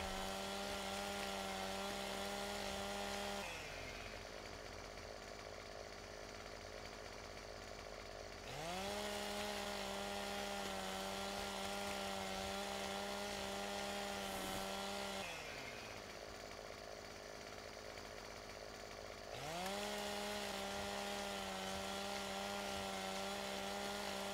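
A chainsaw cutting wood in Farming Simulator 17 on a forestry job, a steady high engine drone that alternates between bogged-down cutting passes and higher free revs, several cycles back to back, loud and close with no talk.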